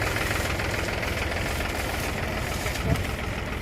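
A tractor engine runs near a paddy field during rice loading, a loud, dense, continuous rumble that stays steady throughout with one small bump near the end.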